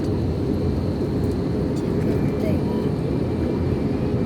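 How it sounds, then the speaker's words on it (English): Inside the cabin of a Nepal Airlines airliner flying by hand through turbulence on approach, a loud, constant low roar fills the space, with muffled voices faintly underneath. "the crew are flying the aircraft manually by hand. Yeah, turbulence is shaking the aircraft really badly."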